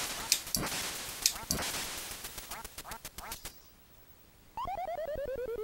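From the NES Duck Hunt game, repeated quacking and gunshot-like blasts are followed by a pause, then the dog's rising-and-falling chiptune laugh plays in rapid electronic bursts.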